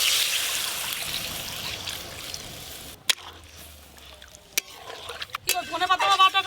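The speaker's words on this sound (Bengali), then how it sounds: "এই যে জল দিয়ে দেবো এবার।" Water is poured into a pan of fish curry made with a large silver carp, a hissing stream for about three seconds, then a few sharp clinks and a voice speaking.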